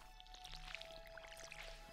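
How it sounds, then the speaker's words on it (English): In the farming video game Stardew Valley, a watering can sprinkles crops with soft, rapid dripping and splashing water, quiet and steady over a faint background music hum. "let's water these things up"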